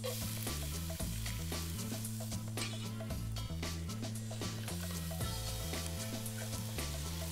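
Chopped onion sizzles as it fries in hot oil in a pot, a dense, continuous crackle with stirring, heard close over steady background music.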